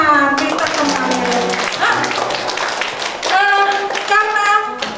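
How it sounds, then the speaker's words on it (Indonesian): Children clap their hands together at a kids' church service, sharp rhythmic taps punctuating the room while voices speak and sing over them, fairly loud and close. "Tepuk tangan, pintar semuanya."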